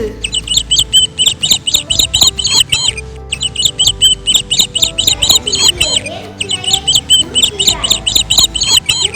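Small bird chicks in a tree chirp in rapid, bright bursts that repeat in three long runs over a soft background bed, loud and close, arranged as a children's story sound effect.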